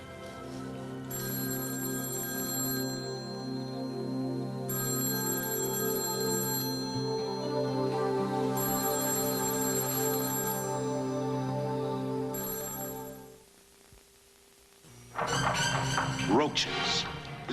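A telephone repeatedly rings in a steady, fairly loud pattern through most of the stretch, then falls quiet before a burst of other sound near the end.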